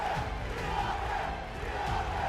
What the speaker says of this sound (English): And you can hear the crowd chanting,